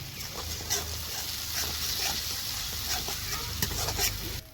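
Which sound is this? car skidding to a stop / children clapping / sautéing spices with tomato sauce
sautéing spices with tomato sauce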